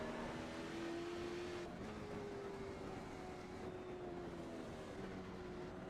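A late model race car wrecked in a heavy impact idles with its broken engine, a rough, steady drone holding one pitch with a slight dip partway through, continuous and moderately loud with no talk.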